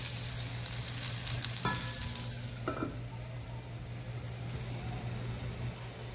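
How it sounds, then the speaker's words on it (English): Bheja fry, goat brain, simmering in a lidded pan on a gas flame, making a soft continuous sizzle over a low hum, with a couple of faint clinks early on and no talking. "We'll cover it with the lid and we'll keep it on simmer almost for about 5 minutes"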